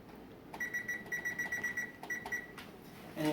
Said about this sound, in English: We set our timer.